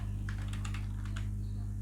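A computer keyboard clatters in a quick burst of light keystrokes, close and soft over a low steady hum.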